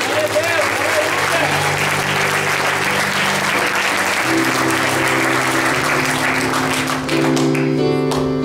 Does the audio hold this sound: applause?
yes